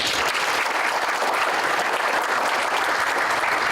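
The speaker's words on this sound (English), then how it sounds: "let's welcome her with a round of applause" Dense, sustained applause from a large audience, loud and even throughout, with no voices standing out.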